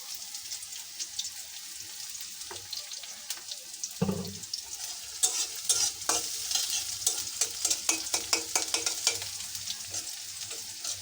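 Whole garlic cloves dropped into hot oil, giving a steady sizzle with crackling bursts and spoon scrapes, close and moderately loud, with no talking.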